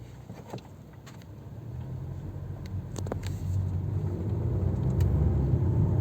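A VW Golf 7 with a DSG gearbox has its engine revved during a clutch test. A low, steady engine rumble builds gradually in loudness, with light clicks and taps over it and no talking.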